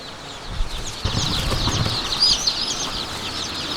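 Chickens cluck and rustle with a flap of wings at a market in Vietnam, close and moderately loud over a continuous bed of busy background noise.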